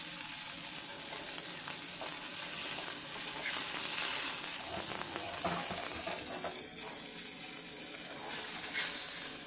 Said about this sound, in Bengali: মাছগুলোকে আমি এপিট ওপিট করে লাল লাল করে ভেজে নিয়েছি